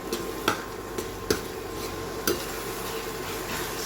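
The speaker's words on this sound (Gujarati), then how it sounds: "ધાણા જીરું પાવડર, સરસ મિક્સ કરી લઈએ" Spoon stirring coriander-cumin powder and red chilli powder into a tomato curry in a pan, a few soft periodic scrapes and taps against the metal over a quiet frying background.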